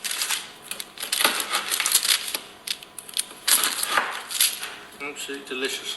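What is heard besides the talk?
knife cutting buttery baked bake into fingers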